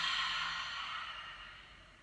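A long breath let out after holding it during a yoga session, a soft airy exhale close to the microphone that gradually fades over about two seconds.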